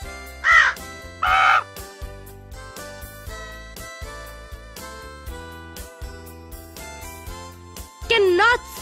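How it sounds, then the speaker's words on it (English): A crow cawing in three loud, harsh calls, two close together near the start and one near the end, set against background music. "Crow."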